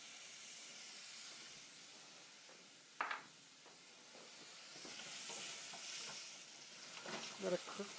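Scallops with capers and fresh ginger frying in a pan give a steady close sizzle and hiss, with a few sharp stirring clatters and spatters through it.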